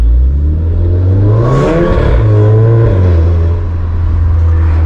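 A Volkswagen Fusca (Beetle) fitted with a TSI engine making over 300 hp at the wheels and a Magnaflow exhaust pulls hard, heard loud and close as its engine surges up in revs then settles back to a steady droning growl.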